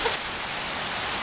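Rain falling steadily in the High Tatras, an even dense patter and hiss heard close by with no voices.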